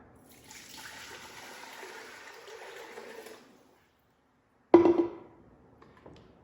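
Water pours into an Instant Pot for a few seconds with a soft steady splashing, then after a pause a brief louder gush of water follows.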